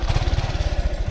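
A motorcycle engine chugs close by in a rapid, even low pulsing, steady and moderately loud throughout.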